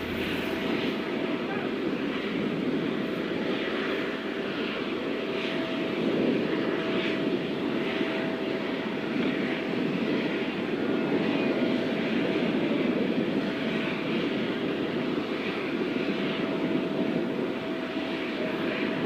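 Aircraft engine running steadily at an official arrival of India's Prime Minister, a continuous broad roar with a sustained tone, mixed with faint crowd and announcer-like background voices throughout.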